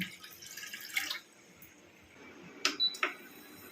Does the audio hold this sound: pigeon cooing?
no